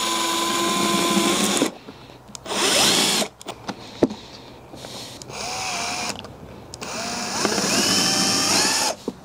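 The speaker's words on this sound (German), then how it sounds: "mit selbstschneidenden Schrauben den Eimer hier an diesem anderen Eimer befestigen" Power drill driving galvanized self-drilling screws through one plastic bucket into another, in several loud whining bursts with short pauses between them, the pitch rising and dropping as each screw bites and seats.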